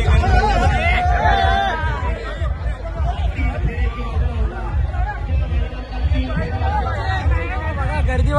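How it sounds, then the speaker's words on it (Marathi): A large crowd chattering at a festival procession in Chiplun, a dense loud babble of many overlapping voices close around, steady throughout, with nearby speech mixed in. "गर्दी बघा किती आहे।"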